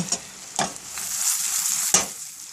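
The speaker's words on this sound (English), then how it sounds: "just put some and let it fry itself good" Food frying in a pan, a bright continuous sizzle heard up close with a few sharp stirring knocks against the pan and no voices.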